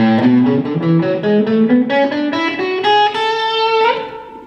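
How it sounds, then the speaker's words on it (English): Electric guitar with a touch of overdrive, strummed chords and melodic movement climbing higher, sustained and fairly loud with no talking. "So the sound that I'm getting here is a little bit of overdrive"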